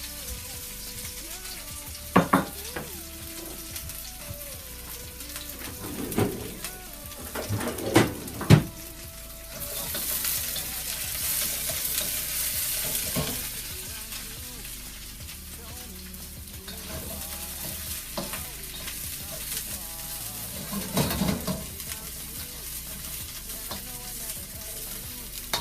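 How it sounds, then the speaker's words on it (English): Carrots and cauliflower sizzle and crackle in a hot pan, with clattering stirs and scraping, and a burst of louder hissing midway; no talking. "Sizzling."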